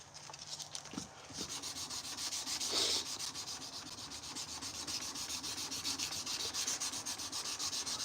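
A forged knife blade clamped in a vise is hand sanded with steady, rapid back-and-forth rubbing strokes, close and continuous after a brief pause near the start.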